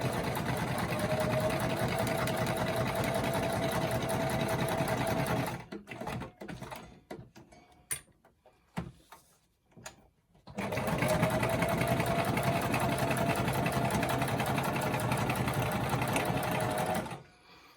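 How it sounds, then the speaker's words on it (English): A sewing machine runs in long steady stitching bursts, stopping briefly in the middle with some handling clicks, then starting up again, loud and close. "where would I be without the sewing machine?"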